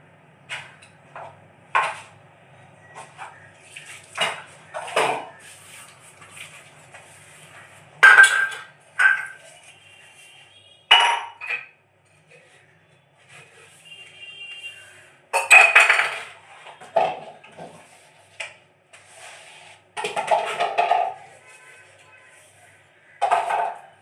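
Dishes being scrubbed and washed by hand in a home kitchen, with irregular clinks and clatters of pots and utensils and scraping bursts, close by, with occasional faint speech in between.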